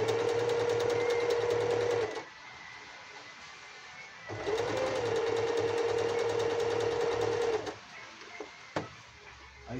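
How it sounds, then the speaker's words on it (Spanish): A Yokoyama sewing machine stitching a zigzag seam runs in two steady bursts of a couple of seconds each, with a quiet pause between them and a small click near the end. No one speaks. "Ahí cosió. El zigzag cose."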